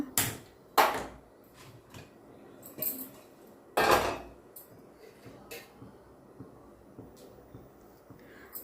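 Metal pot clanks and clinks as it is set onto a kitchen stove for mango pulihora, a few sharp knocks near the start and one loud clatter midway, then quieter scraping and small taps.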